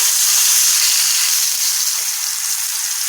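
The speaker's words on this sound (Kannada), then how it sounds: "ಸೊ 2 ಸೈಡು ಎಣ್ಣೆ ಒಳಗೆ ಬದ್ನಿಕಾಯಿ ಚಲೋತ್ನಂಗೆ ಫ್ರೈ ಆಗಲಿ." Brinjal slices frying in oil on a tawa give a steady, loud, close sizzle with a bright hiss and only slight variation, heard alone without any voices.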